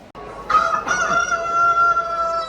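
A loud, close rooster crow rings out clearly after a short click, its long drawn-out call holding to the end.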